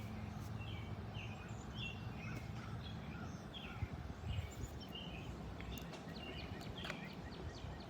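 Birds chirping and calling outdoors in Vermont on a pleasant day, repeated bright tweets scattered over a steady background hum, moderately distant and no one speaking.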